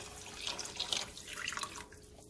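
Tap water runs into a pot of simmered broth for Cambodian noodle soup. The pour is a soft, brief, continuous splash and trickle, fairly faint and close, with no talking.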